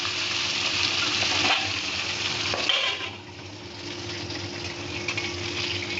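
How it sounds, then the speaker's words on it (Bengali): Boal fish fries in hot oil under a lid, giving a dense, even hiss that eases slightly halfway through, with a low hum in the background and no voices. "চলো এবার মাছটা ভেজে ফেলি সব করে।"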